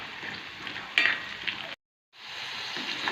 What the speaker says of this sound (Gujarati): હવે આપણે આમાં બટેટા નાખી દઈશું. એને પણ ફ્રાય કરી લેશું.